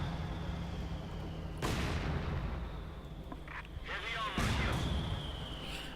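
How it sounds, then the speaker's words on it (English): Mortar rounds fire and land in the Company of Heroes 2 strategy game, with two sharp booming bursts and a whistling whine over a steady battle rumble. Commentary talk runs underneath. "Mortar round continues to whizzle all across."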